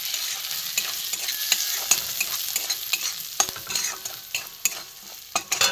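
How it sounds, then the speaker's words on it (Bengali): Semolina frying in a few spoonfuls of hot mustard oil, stirred in a pan while cooking a vegetarian filling; a steady close sizzle runs throughout with repeated scraping clicks of the spoon against the pan, no talking. "সুজিটা একটু ভেজে নেব।"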